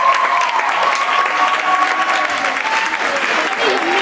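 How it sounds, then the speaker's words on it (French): An audience at a French school's student math conference applauds steadily throughout, a dense, loud, continuous clatter of hands with no pauses. "on peut applaudir bien fort Mathilde du lycée français de San Francisco."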